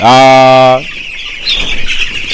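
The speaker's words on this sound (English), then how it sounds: "I'm out here in my chicken house right now to check how our chicken are doing" Inside a broiler chicken house, a loud, close squawk opens, then a softer mix of clucking and chirping from several chickens fills the background.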